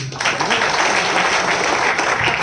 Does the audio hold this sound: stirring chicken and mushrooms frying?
no